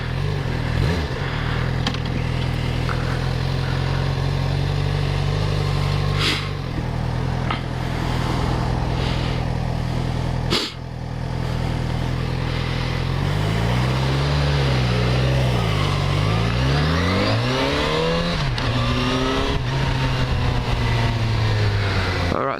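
A 2013 Yamaha FZ6R motorcycle with a detuned R6-derived inline-four engine runs steadily and close, its pitch rising and falling through several revs near the end.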